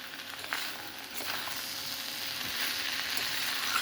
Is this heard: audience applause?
no